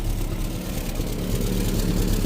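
A $500 4x4 Isuzu Trooper bought off a marketplace, with an exhaust leak, runs steadily nearby: a continuous low engine drone with a faint rhythmic pulse throughout and no one speaking.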